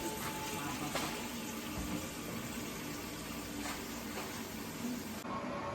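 Water running steadily from a tap into a pot, filling it for boiling spaghetti in a home kitchen, a continuous close rushing splash with a brief change near the end.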